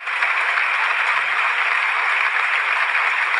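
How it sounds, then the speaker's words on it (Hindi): Dense, steady applause and cheering from a large crowd at a speech by Ambedkar, a continuous loud roar of clapping with no talk over it. "तालियों की गड़गड़ाहट"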